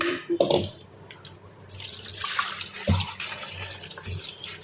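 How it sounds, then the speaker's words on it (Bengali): Silver carp are washed by hand under running tap water, with splashing and gushing that rises and falls as the fish are turned, plus a few clattering knocks. "মাছগুলো একটা ধুতেছি"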